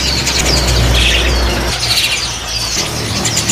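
Lovebirds chirp and squeak rapidly and repeatedly, close by, over a low background hum.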